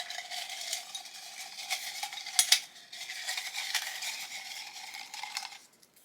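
Hands rummage through small folded slips of paper, giving a steady papery rustle and shuffle with a few sharper crinkles, close and alone.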